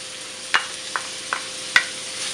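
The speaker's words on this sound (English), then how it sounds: "and I will fry it just for a couple of minutes until the onion becomes soft" Chopped onion and red chili frying in hot oil for homemade chicken puffs, a steady soft sizzle with a few sharp crackles and stirring clicks, close and alone.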